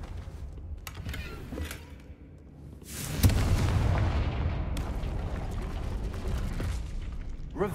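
The Confringo blasting spell explodes in the Hogwarts Legacy video game during a side quest: a few light clicks, then a sudden loud blast that rumbles on with crackling debris for several seconds.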